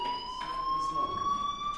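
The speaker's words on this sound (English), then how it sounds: "Hey, do you hear that fire alarm?" A fire alarm rings in the Life is Strange video game, a continuous, shrill electronic tone held without a break and fairly loud over faint room noise.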